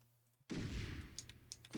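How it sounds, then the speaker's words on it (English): Gunshots in a light-gun video game ring out as a burst of sharp, loud reports that starts abruptly and rattles on for over a second, with crisp clicky accents layered on top. "How's the audio on the gunshots?"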